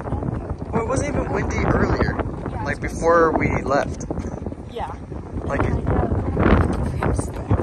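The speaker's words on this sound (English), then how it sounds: "it's so freaking windy today for no reason" Gusty wind buffets the microphone outdoors near a WinCo grocery store, a steady low rumble running under continuous close conversation between several people.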